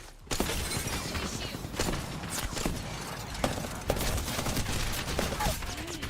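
Sustained bursts of video game gunfire during a ranked battle royale match, with rapid crackling shots and impacts repeating loudly throughout and no talking.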